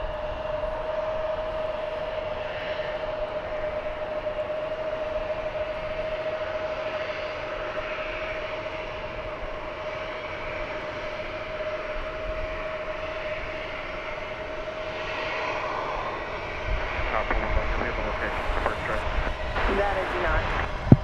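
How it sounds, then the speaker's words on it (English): An American Eagle CRJ-700, arriving from Durango, Colorado, touches down at DFW airport with a steady distant jet rumble and whine that swells near the end; a voice talks over it. "American Eagle Flight 3170 is just about to touch down from Durango, Colorado."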